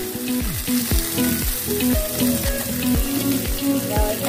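Fish lightly frying in a pan sizzles loudly and continuously, with repeated bubbling pops and crackles close up, as tomatoes are prepared for a Vietnamese papaya salad with shrimp and pork.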